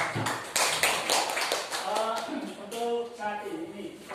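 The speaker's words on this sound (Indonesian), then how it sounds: "Tepuk tangan buat" Scattered clapping from an audience at a school event, sharp separate claps at first that soon give way to a voice talking over the fading applause.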